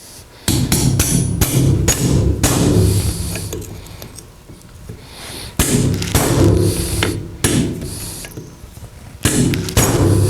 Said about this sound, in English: Now I'm going to go ahead and drive the pin in up past the knurling